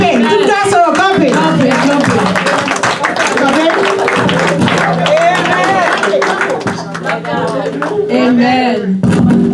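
Church congregation at a Sunday morning service clapping in rhythm alongside loud singing and shouted voices, a dense, close, lively mix that continues throughout.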